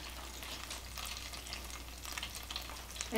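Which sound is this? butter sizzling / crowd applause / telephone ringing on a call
butter sizzling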